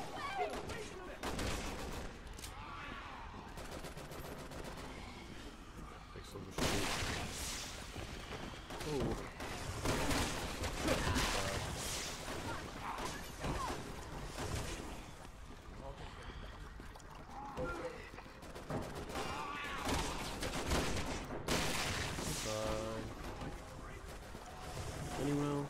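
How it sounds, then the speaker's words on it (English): Gunfire as an enemy is shot in the video game Resident Evil 6, with dense bursts of shots layered over busy game sound and music, and a person talking throughout. "I'm shooting him."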